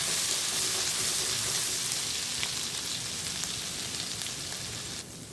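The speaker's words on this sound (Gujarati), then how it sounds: "આપણે એમાં જે આદુ ને લસણની પેસ્ટ રેડી કરી છે એ એડ કરીશું અને એને બરાબર સાંતળી લઈશું." Ginger-garlic paste sautéing in a pan for a mixed-bean dal, giving a steady, fairly loud sizzle throughout with faint stirring and no voices.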